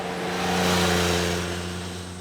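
A Yamaha Niken GT three-wheeled motorcycle accelerating with its quickshifter, heard as a loud, close engine drone that swells and then eases slightly in pitch, steady and unbroken with no speech.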